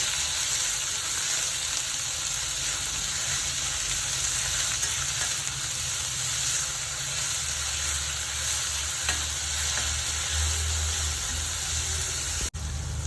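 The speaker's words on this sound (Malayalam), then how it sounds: "സവാള ഇട്ട് കൊടുക്കാം നന്നായിട്ടൊന്ന് വഴങ്ങണം" Sliced onions sauté in a pan for onion chutney, giving a steady, dense sizzle that continues without letup throughout, with faint stirring and no voices.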